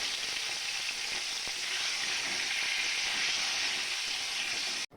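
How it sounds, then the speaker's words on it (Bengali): Pointed gourd (potol) frying in white oil with salt and turmeric, a dense steady sizzle that holds evenly throughout, close and fairly loud with no talking. "সাদা তেলে পটলগুলোকে ভাজবো, আর ওর মধ্যে হাফ চামচ মতন নুন আর হলুদ দিয়ে পটলগুলোকে ছেড়ে দিলাম।"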